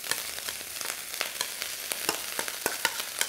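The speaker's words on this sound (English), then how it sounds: "Again, that last bit of oil in the wok, your rice goes in." Rice hits hot oil in a wok and fries with a bright, crackling sizzle, punctuated by repeated sharp spits and stirring scrapes, close and fairly loud with no talking.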